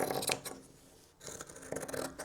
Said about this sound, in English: I'm going to use my scissors to cut that out